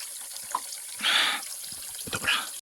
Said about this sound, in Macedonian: Тука чрчори. Што гледате водата. Ладна изворска вода.